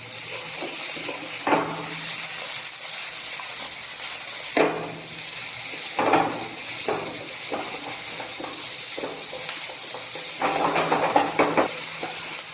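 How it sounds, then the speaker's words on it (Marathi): Garlic cloves with ginger frying in a pan over high heat for a Marathi dudhi bhopla (bottle gourd) dish, giving a steady hiss and sizzle broken by several bursts of stirring and spatter. "8 ते 10 लसणाच्या पाकळ्या त्या आपल्याला त्याच्यात घालायच्यात आणि त्याला थोडंसं फ्राय करून घेऊ"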